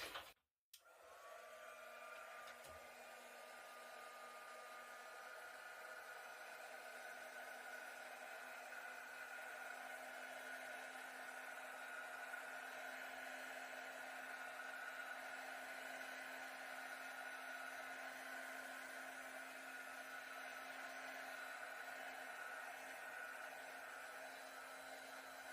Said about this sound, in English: So let's hit this quick with a heat gun.